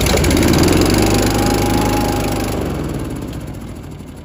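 A small petrol engine runs loud and steady after its choke is adjusted, a continuous motor drone that eases slightly toward the end.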